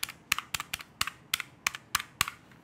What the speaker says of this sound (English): Let me get it up next to the mic so you can kind of hear the click.